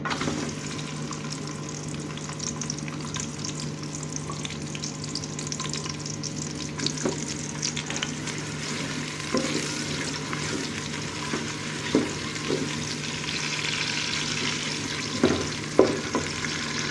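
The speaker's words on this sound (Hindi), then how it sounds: "घी को अच्छी तरह गर्म करने के बाद हम इसमें प्याज डाल देंगे।" Onions sizzling and frying in hot ghee, a steady crackling hiss with occasional stirring clatters, close up and continuous.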